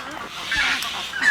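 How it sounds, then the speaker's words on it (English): Geese or similar fowl honk in short nasal calls at a bird sanctuary at dawn, a few brief cries over a steady murmur of bird noise, moderately close. "Noisy birdies are waking up."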